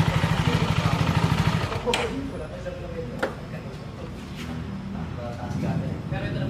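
A CF Moto 300SR motorcycle engine runs at a steady idle nearby, its low pulsing beat clearest at the start before it sinks under people talking.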